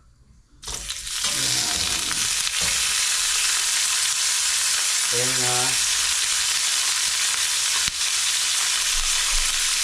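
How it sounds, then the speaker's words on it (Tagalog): Food hits hot oil and breaks into a loud, steady sizzle that continues throughout, with a brief spoken remark partway through. "i-prito natin mga kabule"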